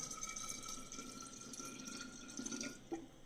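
Water, preferably chilled, poured into a thick avocado smoothie paste to thin it, a quiet, steady trickling and dripping heard up close with no talk.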